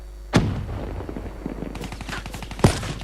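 A sniper rifle fires in Call of Duty Black Ops 3, two sharp loud shots about two seconds apart over a steady game background with faint rattling in between.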